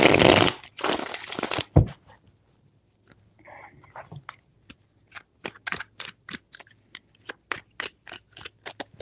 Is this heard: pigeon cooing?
no